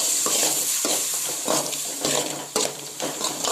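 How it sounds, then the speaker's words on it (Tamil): Tomatoes sizzle and hiss softly in a pan for crab gravy, with intermittent scraping and stirring noises, quiet and close. "தக்காளியும் நல்லா வதக்கணும்"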